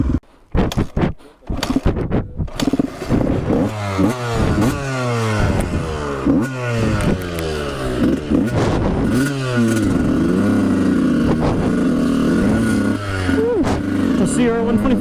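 Two-stroke dirt bike engine ripping along a dirt trail, loud and close, with repeated rising revs and gear-change sweeps over about twelve seconds, a few clattering knocks at the start, and a rider's voice briefly shouting over it.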